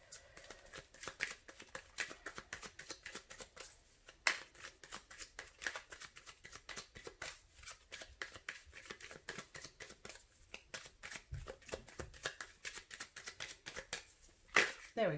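A deck of tarot cards shuffled by hand, close and fairly quiet, in a long continuous run of rapid riffling flicks with a few sharper snaps near the end.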